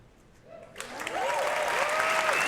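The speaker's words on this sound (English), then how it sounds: "how many times have they applauded just during her presentation?" Audience applause at the Ubisoft E3 2019 presentation, rising from a quiet start into a sustained, dense burst of clapping that swells and holds steady, with a faint voice briefly underneath.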